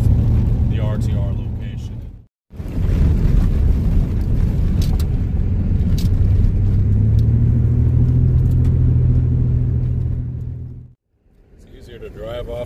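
A car rolls along bumpy Mitchell Mine Road in the desert with a steady, loud low rumble. Two brief dropouts break the sound, and it resumes after each one.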